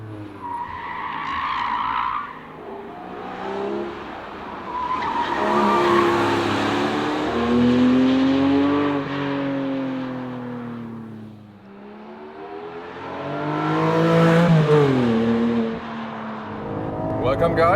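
A Porsche 718 Cayman GTS 4.0 on a racetrack, its engine loud inside the cabin, revving up and down in long sweeps with tires squealing through corners, and someone talking over it.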